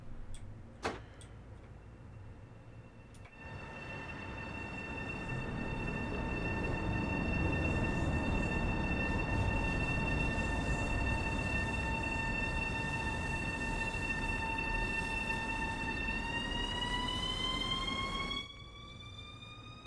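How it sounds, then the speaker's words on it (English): An electric Long Island Rail Road train in Train Sim World 2 runs with a steady rumble and rising electric motor whine that holds and then climbs in pitch. A few sharp clicks come at the start, with no voices. "I do like the train audio."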